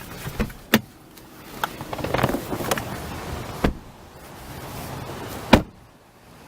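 A car being switched off and exited: sharp door clunks and clicks stand out over quiet interior rustle, with a power-window or motor whir in between and a final solid door thud.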